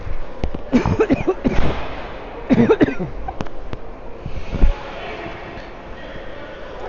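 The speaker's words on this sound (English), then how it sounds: "Excuse me for a second while I cough" A few sharp coughs close to the mic, with crowd noise and a commentator's voice around them at a bantam ice hockey game.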